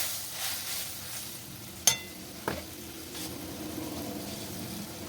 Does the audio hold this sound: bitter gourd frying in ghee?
yes